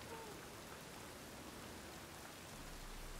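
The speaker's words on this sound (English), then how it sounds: "It's raining out." Rain falling in the video game The Witcher 3, a steady, even hiss of rainfall with no breaks, soft and continuous, without talk or other distinct sounds.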